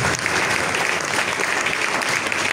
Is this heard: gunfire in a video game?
no